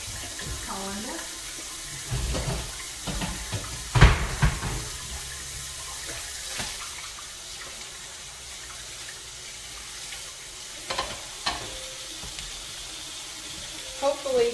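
Running water pours steadily from a tap into a colander of food being rinsed, a continuous splashing rush with occasional knocks and rattles, while a person talks intermittently over it.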